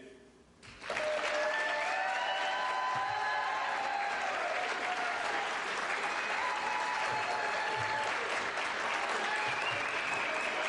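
An audience at a Fall River mayoral debate bursts into loud cheering and applause for the candidates, a sustained roar of clapping with shouts and whoops rising above it after a brief voice at the start.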